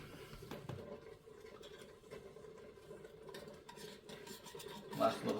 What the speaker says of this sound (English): Last little stir.